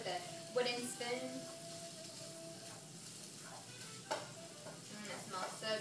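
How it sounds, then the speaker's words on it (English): Fresh, uncured chorizo is broken up with a wooden spoon in a hot pan, with soft scraping and stirring over a low sizzle, a few sharper knocks, and quiet background sounds. "So you just want to break it up with a wooden spoon"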